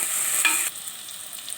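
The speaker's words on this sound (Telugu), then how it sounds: "పచ్చిమిర్చి, ఉల్లిపాయ వేసానండి తాలింపుకి." Green chillies and onion sizzle in hot oil for a tempering, with a bright crackling hiss and a brief stir before settling into a steady fry.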